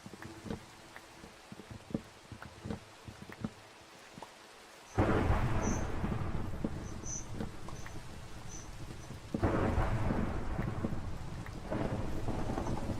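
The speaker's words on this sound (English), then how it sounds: "sometimes there could be really nice ambiance with thunderstorms in this game" A thunderstorm rolls through the Minecraft video game: heavy rain hisses loudly and steadily, with deep rumbling thunder swelling in around five seconds in and again near ten seconds, and no one speaking.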